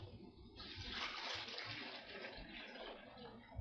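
Beef broth, or au jus, poured into a pot of ribs stew: a steady, close splashing pour that runs unbroken for a few seconds at moderate loudness.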